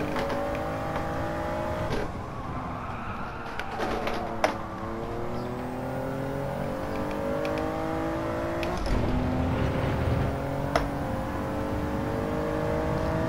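Gran Turismo 7 AWD sports car driving, a steady engine drone rising and falling through gear changes with tire noise, continuous and fairly loud with no talk.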